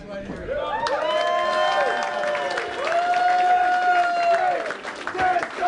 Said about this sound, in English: Give it up for all these guys